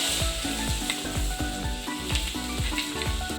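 Chopped potatoes hitting hot oil for a Bengali potato and gime greens fry: a loud, continuous sizzle fills the pan with a regular, rhythmic swishing pulse running through it.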